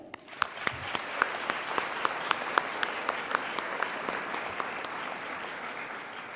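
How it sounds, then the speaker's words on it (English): Graduation ceremony crowd at Holland College applauds family and friends, a soft wash of many hands clapping with a few distinct, rhythmic nearby claps standing out, fairly distant and steady throughout. "can we also just have a small round of applause for our family and friends here today?"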